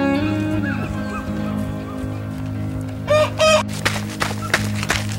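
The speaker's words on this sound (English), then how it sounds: "The chickens are out." Backyard chickens let loose from their coop cluck and squawk nearby, with a couple of loud crowing calls breaking out past the midpoint over a steady low background hum.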